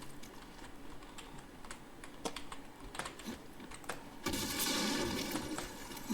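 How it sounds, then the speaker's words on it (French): A computer keyboard played during a game stream, clacking in scattered close keystrokes, then a louder burst of rapid typing near the end, with no talking. "C'est mon clavier, il a bugué."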